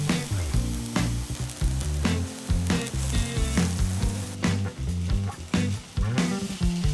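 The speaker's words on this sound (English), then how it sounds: "Keep flipping over the eggplant to cook them evenly on both sides." Eggplant slices sizzle loudly in a pan as they are flipped, a continuous close frying hiss broken by repeated clacks and scrapes of turning.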